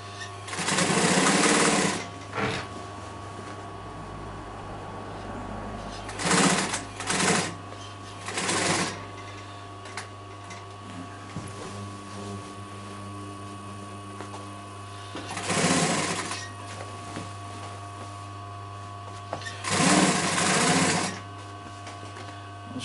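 Sewing machine running a half-inch seam along the piping stitch of a cushion, several loud bursts of fast mechanical stitching separated by pauses, over a constant low motor hum.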